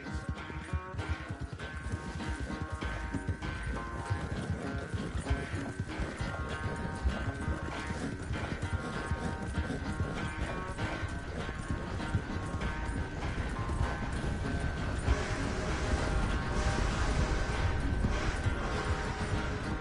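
Horse hooves in the video game Red Dead Redemption 2, a steady clip-clop of riding that runs the whole time under dense, continuous game music and ambience, with no clear talk.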